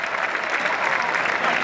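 Festival audience applauding steadily at a record-setting salami event in the sierra, a dense, even wash of many hands clapping that stays loud and unbroken throughout.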